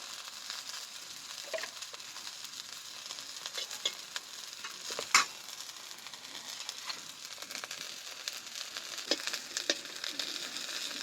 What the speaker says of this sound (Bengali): পাঁচ ফোড়ন আমার ভালোভাবে ভাজা হয়ে গেছে